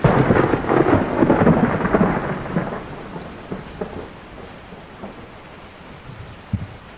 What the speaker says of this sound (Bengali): শ্রাবণ মাসে বৃষ্টির আর শেষ নেই।